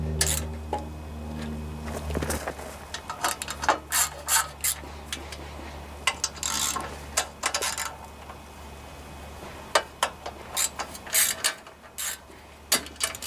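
A screw being tightened on a bracket of a Snapper riding lawnmower gives a run of quick ratcheting clicks in uneven bursts, close and fairly loud, with no talking.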